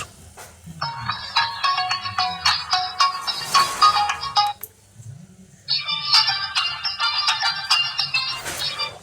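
A bright electronic ringtone from an AXION X300 keypad phone plays a quick repeating melody, pauses briefly, then starts again, loud and close.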